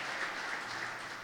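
Faint, steady applause from a church congregation, a brief wash of many hands clapping at a distance with no voices on top.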